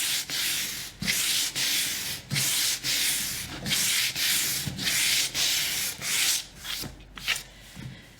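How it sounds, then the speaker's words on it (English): Steady rasping strokes of sandpaper rubbing across wood by hand, repeated in a regular back-and-forth rhythm, close and fairly loud, with no voices. "When you need to make really big, long swaths of sanding, this is the ideal tool"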